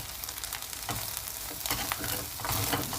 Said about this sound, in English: I'm just going to stir it into the rice to get hot and wilted.